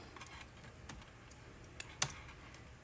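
Text typed on a computer keyboard while making DIY address and product labels, soft scattered key taps up close, with one louder sharp click near the end and no talking.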